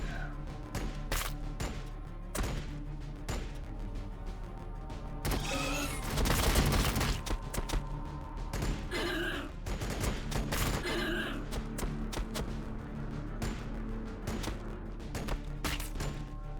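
Rapid bursts of gunfire from the strategy game Warhammer 40,000: Battlesector, repeated volleys and sharp shots across the stretch, with a heavier, louder flurry in the middle over a steady background hum.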